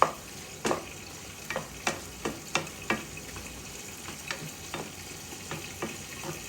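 Green chillies and ginger-garlic paste for a chicken curry are stirred in a hot pan. About a dozen sharp, close spoon scrapes and taps fall in an uneven rhythm over a soft, steady sizzle.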